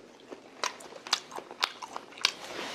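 Close, crisp bites and crunchy chewing of a shrimp salad with oriental dressing, sharp crunches recurring about every half second over a quiet room, no talking.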